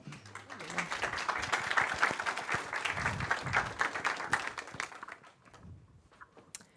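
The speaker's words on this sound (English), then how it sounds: "welcome to the stage, Maria and Nancy. A warm applause" Warm audience applause as two speakers are welcomed onto the stage at an HR conference, a dense sustained crowd of clapping that swells and then tapers off over several seconds.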